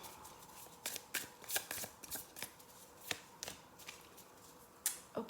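Tarot cards being shuffled and peeled in a quiet room, a series of crisp papery riffles and flicks in an irregular rhythm, close and fairly soft, with no voice.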